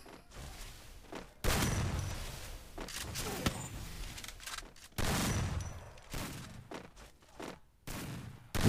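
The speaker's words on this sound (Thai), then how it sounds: "ลูกซองควงนะครับจังหวะนี้ครับไม่รู้จะยิงโดนหรือเปล่านะ" Shotgun fire in the mobile shooter Free Fire: heavy blasts land at irregular intervals, each a loud crack with a rumbling tail, with quieter in-game movement sounds in between.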